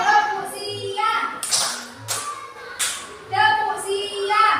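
Children play a clapping game, with a few sharp, bright hand claps spaced among an adult's sing-song speech and children's voices.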